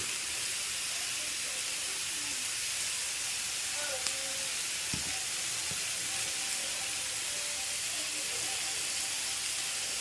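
Carne asada meat searing in a hot pan gives a steady, dense broadband sizzle and hiss that holds level throughout, with a faint thud or two in the middle.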